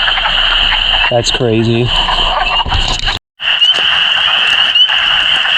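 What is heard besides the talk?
spring peeper frogs calling in vernal pool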